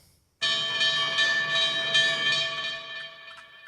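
A railroad crossing bell processed with a delay effect, starting abruptly after a short silence and ringing in a bright, sustained metallic tone with echoing repeats that slowly fade.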